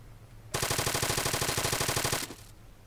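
A rapid burst of automatic gunfire comes from an enemy in a tower in a video game, lasting under two seconds with fast, evenly spaced shots, loud and without talk.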